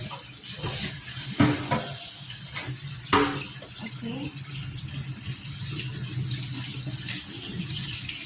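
Cold water runs steadily from a kitchen tap over tomatoes in a sink, a continuous close splashing rush with a couple of brief knocks, while someone says a word.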